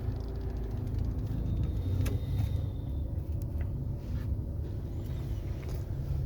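A car's engine runs low and steady as the car pulls away slowly in first gear with the handbrake released, a soft constant rumble with faint cabin sounds and no talk.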